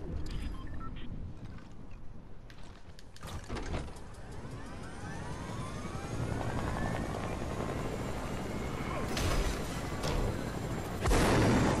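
A helicopter in the Fortnite battle royale game drones steadily throughout, with a sweeping rotor whine that rises and shifts, broken by a few sharp bursts near the start and the end.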